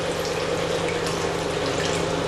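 A toilet tank refills after handle repair, water running in a steady hissing stream with a faint low hum beneath, constant and close throughout.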